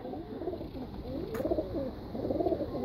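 Pigeons coo nearby in a rooftop loft, with soft rolling calls repeating about once a second at a moderate level and no one speaking.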